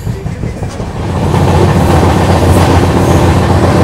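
Pune–Amravati Express train running on the tracks, a loud, steady rumble with a continuous rhythmic wheel clatter that builds slightly and then holds, with no voices.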